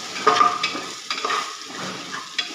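Rice and dal with a spoonful of goda masala is sautéed for restaurant-style dal khichdi, with a clattering spoon stirring and scraping the pot in close bursts over a low sizzle.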